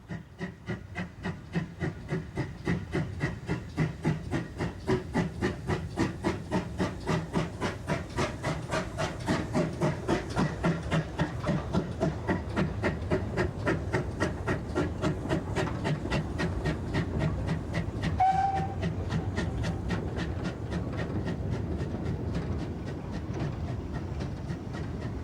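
GWR 1600 class pannier tank steam locomotive in BR livery running steadily, with a continuous rhythmic chuff and rail clatter throughout and a brief whistle near the end.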